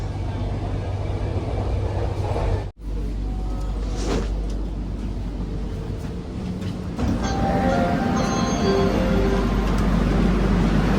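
Steady low rumble of a Kochi Metro train running along the track, with a brief dropout and faint squeals and tones rising later in the ride.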